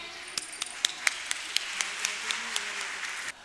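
An audience at a summer camp certification ceremony claps for children coming on stage. The applause is moderate and steady, with a few sharp individual claps standing out, and it stops abruptly near the end.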